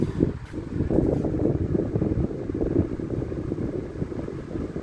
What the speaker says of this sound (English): Very nostalgic fan. I really like how it sounds.